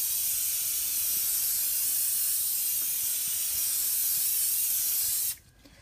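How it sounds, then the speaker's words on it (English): Olive oil spray hisses in one long continuous burst onto beef stock bones, loud and close, stopping abruptly near the end and leaving quiet. "I'm just going to give them a quick spray with some oil"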